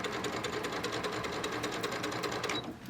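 Sewing machine driving a seam through bulky layers of a bag, a continuous close whirring hum of stitching for nearly three seconds before it slows and stops.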